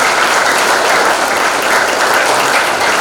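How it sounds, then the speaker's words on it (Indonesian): A large audience applauding together at a motivational sharing session, loud, continuous clapping with an even, dense texture from start to finish and no voices above it. "Kita beri aplaus untuk kita semua."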